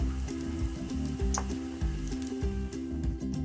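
Grated raw potato pancake frying in a hot pan, a steady close sizzle with a continuous crackling hiss and no voices over it.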